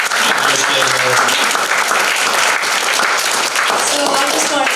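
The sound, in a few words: audience applause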